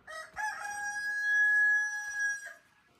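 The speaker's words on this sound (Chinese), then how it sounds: "这里有一只母鸡在产蛋" A hen on a rural farm calls while laying an egg, giving one loud, drawn-out, tonal cackle that rises and holds for about two seconds before trailing off, with no talking.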